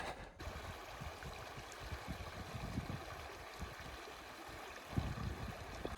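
Calm stream water flowing at a ford in the Sierra Nevada, a soft, steady low babble and trickle, faint and continuous with no voices.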